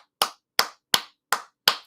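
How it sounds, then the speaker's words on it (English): Five loud, sharp hand claps in an even, steady rhythm, each crisp and close with a brief decay and silence between, no voices. "give yourself a hand clap."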